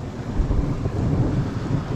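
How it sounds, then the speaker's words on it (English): Deep rolling thunder rumbles low and continuously over a tent pitched along the Pacific Crest Trail between Walker Pass and Kennedy Meadows, a distant heavy drone with no voices. "deep rolling thunder came out for you"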